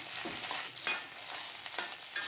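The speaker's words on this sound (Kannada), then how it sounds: "ಬೆಂಡೆಕಾಯಿನಲ್ಲಿರೋ ಅಂಥ ಅಂಟು ಚೆನ್ನಾಗಿ ಹೋಗಬೇಕು, ಅಲ್ಲಿ ತನಕ ಬೆಂಡೆಕಾಯಿನ ಹುರ್ಕೊಂಬಿಡಿ" Okra frying in oil in a pan while being stirred, giving a steady soft sizzle with a few sharp scrapes and clinks of the spoon against the pan, close and alone.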